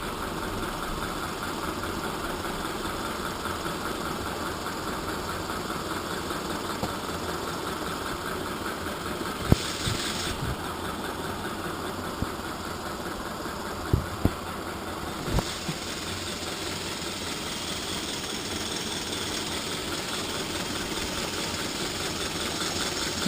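A steady, continuous rushing exhaust roar from an Aster Berkshire live steam locomotive blowing off on exhaust alone with no blower, with a few faint clicks and taps over the constant hiss; no voices.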